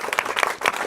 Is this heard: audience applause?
yes